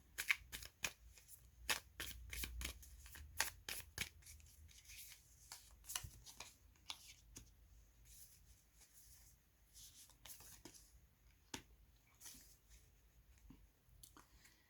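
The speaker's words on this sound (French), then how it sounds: "Alors, prenons deux cartes ici." Tarot cards being shuffled and drawn, a rapid series of crisp riffling snaps and soft slides up close, quiet overall, with irregular bursts and pauses as cards are handled and pulled from the deck.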